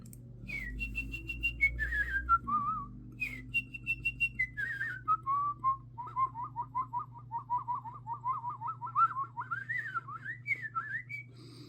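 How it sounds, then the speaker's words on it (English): Someone whistles a bird-like melody alone, with high sliding phrases followed by a long run of quick, rhythmic chirping notes that rise at the end. "I'll show you different types of things that I can do whistling wise"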